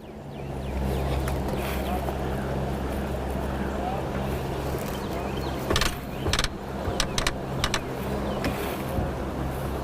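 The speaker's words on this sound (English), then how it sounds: "Try to see if my trolling motor is gonna work." A boat's electric trolling motor hums steadily and close for the whole stretch, with water and wind noise around it and a few short knocks and clicks later on.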